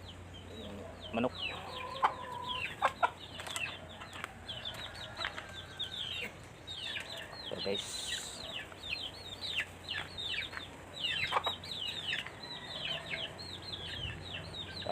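Backyard chickens in a rural Philippine village cluck and call repeatedly near and far, mingled with other birdsong, with someone speaking briefly.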